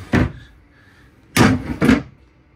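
A stuck drawer in a 2024 Palomino Puma 39DBT destination travel trailer is yanked three times, each a short loud thud or bang. A pause follows the first, then two quick jerks come close together.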